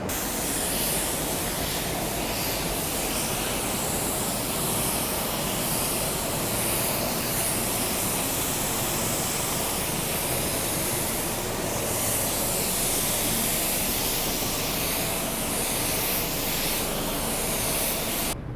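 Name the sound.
paint spray gun applying clear coat on a car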